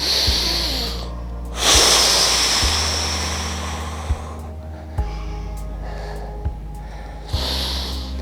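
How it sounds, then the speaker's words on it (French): Deep breathing during a yoga exercise: a long, loud breath with audible airflow, followed by quieter steady breathing with a few soft clicks and a final breath near the end. "Grande respiration."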